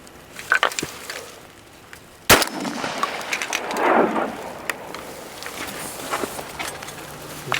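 A single sharp shotgun blast goes off nearby during a duck hunt in Nebraska, where a mallard drake is downed. Before and after the shot come soft rustling, movement and outdoor background noise.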